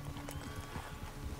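Horse hooves clop in Red Dead Redemption 2, a quiet rhythmic patter of steps under a low game background.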